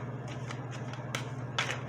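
Tarot cards shuffled by hand in a few soft riffling bursts over a steady low hum, close and fairly quiet.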